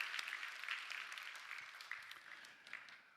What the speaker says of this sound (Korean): 우리 박수를 한번. 네, 박수합시다.